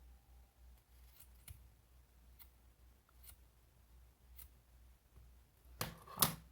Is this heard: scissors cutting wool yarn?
yes